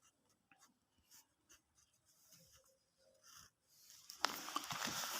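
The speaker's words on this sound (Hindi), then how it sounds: "सबसे पहले इधर वैल्यू लिख लेंगे" Handwriting values for a matrix in a math exercise, faint scratchy pen strokes in short bursts and pauses, followed by a louder rustling swell near the end.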